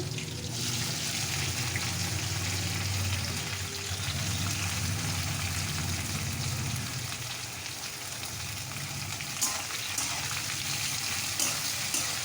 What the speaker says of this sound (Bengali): পেঁয়াজটাকে লাল লাল করে একটু ভেজে নেব